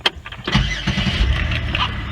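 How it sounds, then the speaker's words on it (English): A car engine cranks and catches after a knock sensor replacement, then runs steadily at close range, loud and continuous through the short stretch. "turn the car on one more time, let it run"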